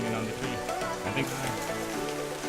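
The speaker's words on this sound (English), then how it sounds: "And we got caught in the rain." Rain falling during the rainy season near hot springs and a volcano in La Fortuna, a steady hiss with dense patter throughout, mixed with faint background voices.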